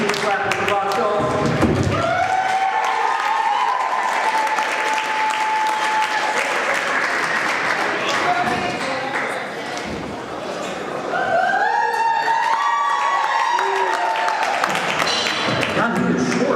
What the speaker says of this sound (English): Let's give a clap for Bob Schultz.